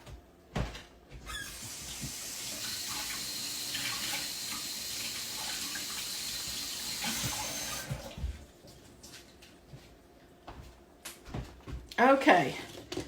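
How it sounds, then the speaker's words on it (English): Kitchen tap water runs steadily into a sink while fresh asparagus is rinsed under it, a continuous hiss lasting several seconds before it stops, followed by light clinks and squeaks. "I just hold it like this and run it under the water real good"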